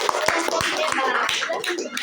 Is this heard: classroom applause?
yes